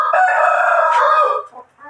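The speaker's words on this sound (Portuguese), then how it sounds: "Olha o galo barulhento." A rooster at a small farm where chickens and pigs are kept crows once, loud and nearby, in a long drawn-out call that trails off into a few softer notes.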